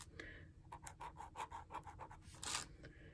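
Arteza TwiMarker tips rub across Create Space paper, giving a soft rhythmic scratching with faint crinkles, close and quiet, ending in a brief brighter swipe.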